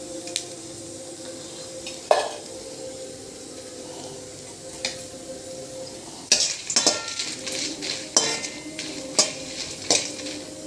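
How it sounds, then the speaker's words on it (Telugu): Dry red chillies roasting in a little oil in a pan, with a low steady sizzle under intermittent clinks and scrapes of a spoon against the pan, louder stirring bursts toward the end. "ఎండుమిరపకాయలు కాస్త ఆయిల్ వేసి వేపుకుందాం"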